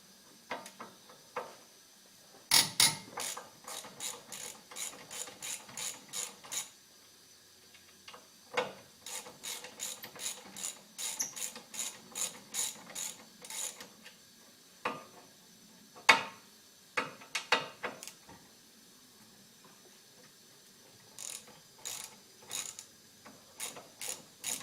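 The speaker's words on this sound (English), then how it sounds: "we're going to take off the front caliper first" A ratchet wrench on a size 12 bolt clicks in rapid runs of sharp ratcheting ticks while loosening front brake caliper bolts, close and fairly quiet, with pauses and scattered metallic knocks between bursts, no talking.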